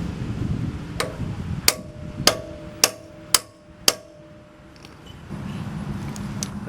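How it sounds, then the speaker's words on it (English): A hammer taps a punch against the drilled steel exhaust pipe of a 2002 Harley-Davidson V-Rod VRSCA, five sharp metallic strikes in an even rhythm, close and ringing briefly, amid low garage background noise. "I am going to use a chisel or punch, and I'm just going to tap on the holes to get them started"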